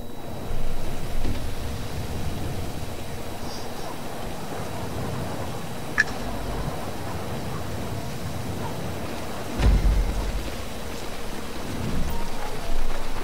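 Steady rain falling in Grand Theft Auto V as a continuous hiss, with a few faint thuds and a brief louder rumble partway through; no one speaks.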